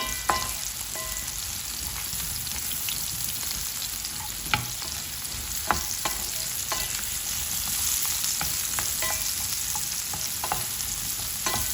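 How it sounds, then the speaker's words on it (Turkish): Mushrooms sauté on high heat in a pan for a creamy chicken dish, giving a loud, continuous sizzle with occasional sharp scrapes and taps from stirring and no talking. "Ve aynı şekilde karıştırarak bunları güzelce soteleyeceğim."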